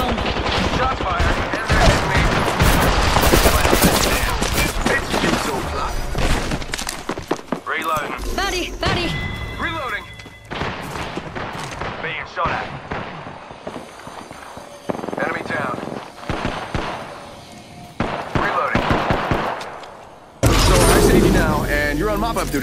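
Gunfire in the Apex Legends battle royale game, bursts of dense rapid shots and impacts mixed with clattering movement and game sounds, loud and close, with speech running throughout.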